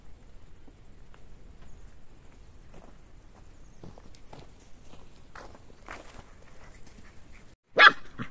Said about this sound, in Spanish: le están ladrando de a gato